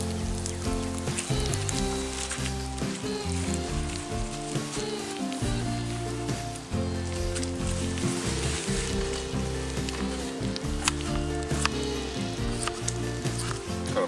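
Sliced potatoes fry in bacon grease in a pan, a continuous crackling sizzle running steadily beneath prominent background music.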